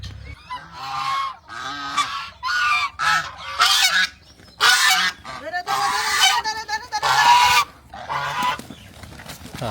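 Domestic geese honking close by, a series of loud, harsh nasal calls in irregular bursts with short gaps between them, the birds calling over one another.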